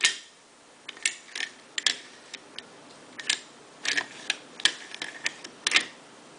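The action bar and bolt of a Remington 31 shotgun are cycled by hand, producing a series of crisp close metallic clicks and light slides at irregular intervals, with no talking.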